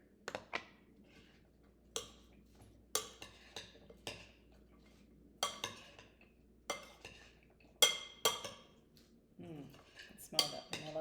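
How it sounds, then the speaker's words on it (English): A utensil stirring dressing into a celery salad: light clinks and scrapes against a bowl, repeated irregularly at a close, quiet level. "And we'll give this a stir."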